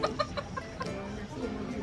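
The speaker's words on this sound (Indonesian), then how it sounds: "Ini ayam-ayam kesayangan nih." Plump backyard chickens clucking close by in a short burst, with a few sharp calls over a steady background murmur and faint talk.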